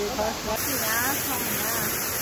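Gaighat waterfall pours with a steady, close broadband rush that fills the whole clip, with voices talking over it.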